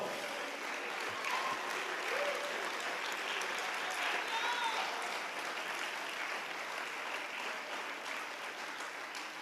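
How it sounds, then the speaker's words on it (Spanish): Church audience applauding steadily during a Spanish-language sermon, a sustained wash of clapping that holds at even strength for the whole stretch, with a faint voice murmuring beneath the crowd. "Dale un aplauso al Señor Jesucristo."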